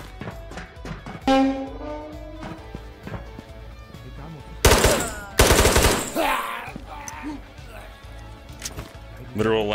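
Gunfire in the video game Ghosts of Tabor comes as loud bursts of automatic shots mid-clip, with scattered single cracks and impacts while a player talks throughout.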